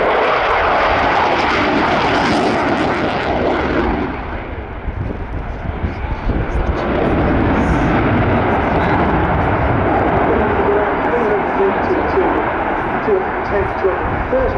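A jet fighter flies a Cobra manoeuvre at the RIAT airshow, its loud, continuous engine roar dipping briefly before surging back, with commentary over the public address.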